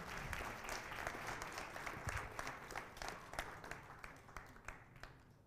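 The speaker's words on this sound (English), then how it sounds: "A huge round of applause for Mr. Tom" Conference audience giving a speaker a warm round of applause, a full, sustained clatter of many hands that stays dense and even before thinning slightly at the end, with no talking over it.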